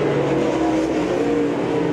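Race car engine roaring on a dirt track at Wythe Raceway during a qualifying heat, a continuous loud droning buzz with a steady pitch and no voices over it.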